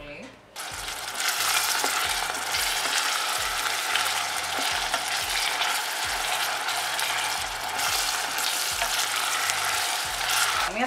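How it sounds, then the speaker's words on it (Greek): Onions sauté in a pan at home, a loud steady sizzle running throughout alongside repeated clicking, ratchet-like mechanical ticks. "Θα σοτάρουμε τα κρεμμύδια μας ώστε να μυρίσει, να μας χωμυρίσει το σπίτι."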